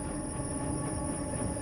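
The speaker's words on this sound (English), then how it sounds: "Damn train." A train rumbles past in the video game INSIDE: a continuous, loud rolling clatter with a sustained high whine running over it for the whole moment, and no voices.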